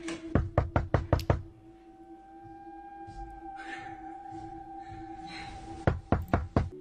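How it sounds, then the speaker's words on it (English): Knocking on a cabin door in Mexico around 4 a.m. at night: a quick, loud run of about six sharp raps, then a hum-filled pause, then another fast burst of knocks. "if someone's knocking at your door at like 4 a.m."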